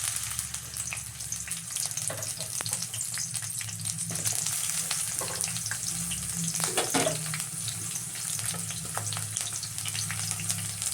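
Onions frying in two spoons of hot oil in a pan while cooking hotel-style rice bath, a steady close sizzle with occasional scraping stirs, no voices.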